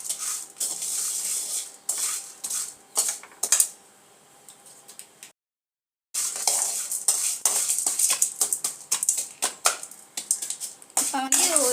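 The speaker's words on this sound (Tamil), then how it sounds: "கொஞ்சம் கோல்டன் ப்ரௌன் ஆகிற வரைக்கும் நம்ம வந்து இதை வறுத்து எடுத்துக்கணும்" Food frying in a hot pan until golden brown for a homemade snack in a home kitchen, with crackling sizzle and scraping utensil clatter, broken by a brief silent gap midway.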